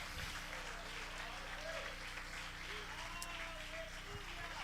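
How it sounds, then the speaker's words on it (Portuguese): A church congregation stands and applauds, producing sustained, even clapping that fills the room from start to finish beneath a low, constant hum. "Aplauda o nome do Senhor."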